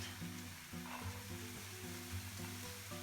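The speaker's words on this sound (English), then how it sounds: "over here, we're going to add the onion first" Chopped onion sizzling in a hot pan while making a creamy mushroom julienne, a steady close hiss over a low electrical hum, with faint stirring bumps and no voices.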